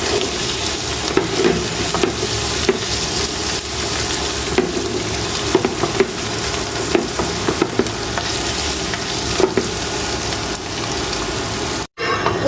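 Bitter gourd fry is stirred with a spatula in a hot wok, a continuous loud sizzle broken by repeated scraping strokes for about twelve seconds.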